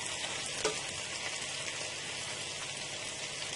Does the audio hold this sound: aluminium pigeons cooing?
no